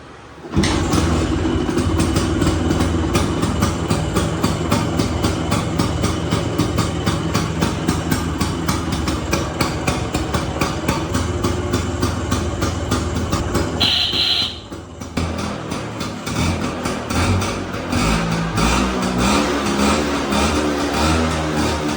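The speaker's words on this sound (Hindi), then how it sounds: "इसको स्टार्ट भी कर लेते हैं यार, ऐसा करते हैं।" An old Royal Enfield Bullet motorcycle under restoration, its engine running with a loud, rapid, steady thumping beat that briefly dips and shifts near the middle before settling back into an uneven idle.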